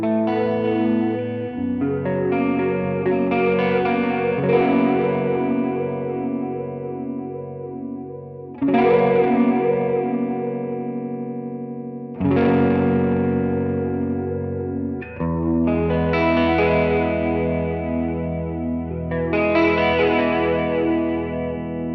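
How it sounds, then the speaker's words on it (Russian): Electric guitar through the flanger of a TC Electronic Dreamscape pedal, sustained chords and notes swept by a slow, swirling jet-like whoosh, several strums ringing out alone with lingering reverb. "Давайте послушаем фленджер теперь."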